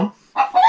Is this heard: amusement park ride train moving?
no